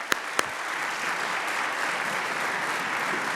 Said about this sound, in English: Sonia, let's give her a big round of applause.